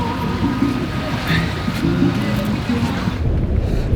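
Surf washing onto the beach at Playa del Carmen, a steady broadband rush of waves mixed with gusty wind buffeting the microphone, with no distinct breaks between swells.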